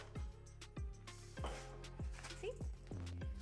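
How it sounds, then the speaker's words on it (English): A baking pan rolled back and forth over graham cracker crumbs gives a steady run of about six thudding, crunchy strokes, each followed by a brief metallic ring, close and fairly quiet. "you can also just roll the baking pan back and forth over your crumbs"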